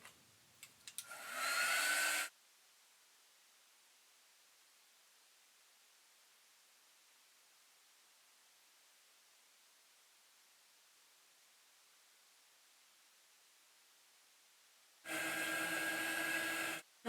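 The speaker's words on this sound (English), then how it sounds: "Here's my dryer. That'll give it a chance to dry" A handheld hair dryer blows in two short loud bursts, one at the start and one near the end, with near silence between.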